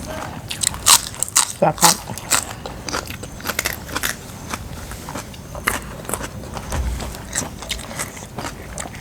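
Crunchy bites into raw garlic alongside a meal of spicy northeastern Thai dishes, a few sharp crackling crunches early on followed by softer chewing, close to the mic over a busy background.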